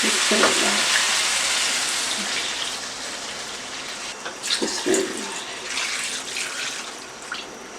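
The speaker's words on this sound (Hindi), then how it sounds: "मैं इसमें 1 लीटर पानी डाल रही हूँ गोश्त को गलाने के लिए" A loud sizzle and hiss as about 1 litre of water is poured into a hot pot of beef for Afghani pulao, with stirring clatter and a few muffled voice fragments.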